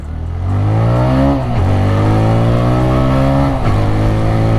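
A 2025 TVS Raider 125 motorcycle accelerates hard in eco mode, its engine note climbing through gears with two clear shift drops, loud and close with no talk.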